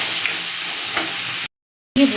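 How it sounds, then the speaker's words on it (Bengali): Bori (lentil dumplings) fry in a pan over medium heat while being stirred, a steady close sizzle with scraping strokes that cuts out briefly to silence and then returns louder. "বড়িটা আমি একদম মিডিয়াম আঁচে রেখে ভালো করে নাড়াচাড়া দিয়ে লাল করে ভেজে নিচ্ছি।"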